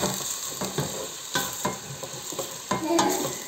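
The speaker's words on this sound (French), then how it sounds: "c'est mes oignons qui sont en train de revenir dans la gamelle" Onions frying gently in a pan over low heat with peas nearby, a soft steady sizzle broken by repeated scraping stirs of a utensil, close up with no talking.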